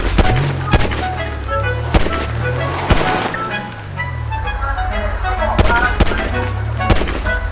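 Video game gunfire cracks out in repeated sharp shots spread through the clip, loud over a low engine-like rumble and game sounds.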